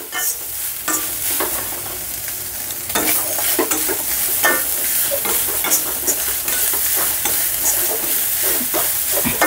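Grated coconut frying and being stirred in an iron pan, a loud close sizzle broken by repeated scraping strokes of the spatula, with no talk.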